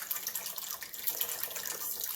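Broth and water pour into a vegan hot pot, a steady, close splashing trickle of liquid that runs continuously and fairly loudly without pause.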